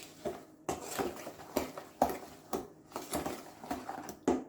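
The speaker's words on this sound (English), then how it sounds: "we can give it a stir until it's well blended" A spoon knocks and scrapes in a bowl of apple bread batter with sugar, in repeated uneven strokes, close and fairly quiet, with no voices.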